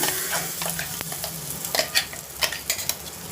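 Sweet potato chutney sizzles in hot oil tempering while being stirred, with scraping clicks and bursts of crackling, close and moderately loud.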